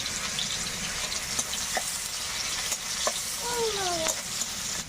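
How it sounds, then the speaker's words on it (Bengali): Chopped onion sizzles in hot oil in a kadai with panch phoron (five-spice), a dense, close frying crackle joined by a few stirring scrapes and light clinks of the spatula, with no talking. "পেঁয়াজ কুচি দিয়ে দেবো"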